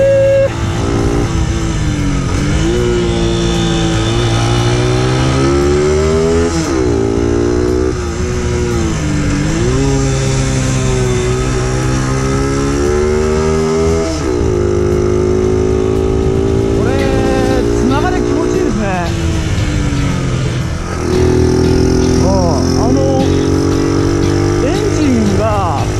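A modified Honda Super Cub with a downhill-spec mountain-pass build rides downhill, its small single-cylinder engine loud and close, revs climbing and dropping in repeated sweeps through gear changes and braking, with a rider talking over it at times.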